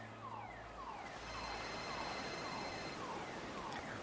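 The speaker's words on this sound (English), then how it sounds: "Reggie's taking care of that car alarm." An outdoor car alarm keeps cycling through its repeating sweeping tones, steady and fairly faint, with no voices over it.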